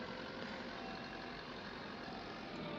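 A tractor engine from a farming video game drones at a steady, even pitch, a constant dense mechanical hum with no breaks, heard alone at modest level.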